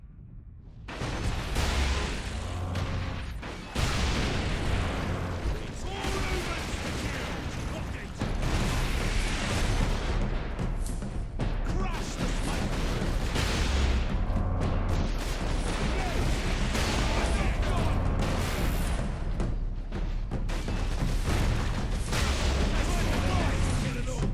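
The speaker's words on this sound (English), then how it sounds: "Orc rocket launchers on the high ground." Ork rocket launchers firing from high ground in Warhammer 40K Space Marine, heavy booming blasts and mechanical clatter piling up into a dense, continuous barrage with a voice faintly under the din.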